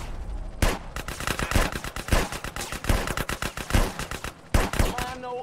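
Rapid, loud gunfire from a first-person gun in a remastered GTA San Andreas, steady fast bursts with brief pauses and near, sharp reports, with faint talk underneath.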